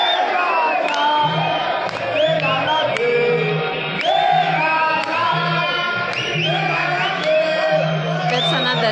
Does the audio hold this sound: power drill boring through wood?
no